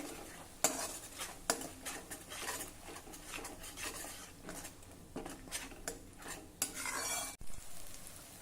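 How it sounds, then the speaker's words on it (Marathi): Ground masala paste sautéing in three tablespoons of hot oil over medium heat: continuous frying sizzle with repeated scraping stirs and utensil clinks against the pan, close, without speech. "यामध्ये हे वाटण घालूया आता मध्यमाचेवर छान तेल सुटेपर्यंत हे वाटण आपल्याला परतायचं आहे"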